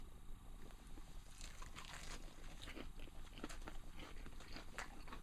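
Crisp bites into raw Tom Thumb lettuce leaves from a winter garden, a steady series of close, wet crunches and chewing sounds with no talking.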